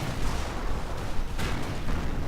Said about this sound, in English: And Panzer IV opening up